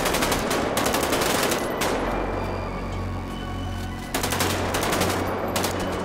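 Gunfire in a GTA 5 zombie survival apocalypse game: loud, rapid automatic bursts rattle close by, stop for a couple of seconds, then start again.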